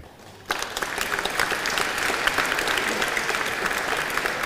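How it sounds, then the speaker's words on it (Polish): Audience at a patriotic sing-along evening breaks into sustained applause for a performer, a dense, steady wash of many hands clapping that starts abruptly after a brief quiet moment and holds at an even level throughout. "Ogromkie brawa dla pani Bernadety Kot"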